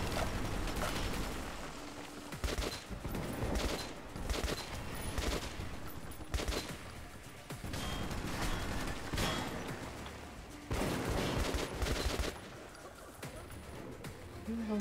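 Gunfire in Metro 2033, repeated bursts and single shots crackling in irregular clusters, loud and close with brief gaps between volleys.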